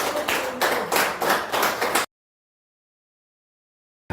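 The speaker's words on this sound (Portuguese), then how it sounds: "aplauda o Senhor." A church congregation claps during a communion service, giving about two seconds of loud, rhythmic group clapping in pulsing bursts that cut off abruptly into silence.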